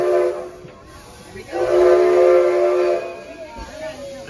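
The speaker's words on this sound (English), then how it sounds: "They're blowing steam out of this side." A passenger steam train at Greenfield Village gives off a sustained tonal whistle that rises and holds for over a second before fading, heard from aboard with ambient rumble and voices.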